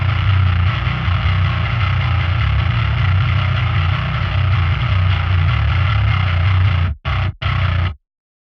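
A thick, heavily processed bass guitar tone grinds steadily and loudly, ending with a couple of short choppy stabs before stopping.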